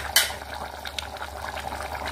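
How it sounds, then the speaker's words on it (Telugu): Mutton curry simmering with a little water in a pot on the stove gives off soft, steady bubbling and a faint hiss, with one brief clink near the start. "కూర ఉడుకుతుంది"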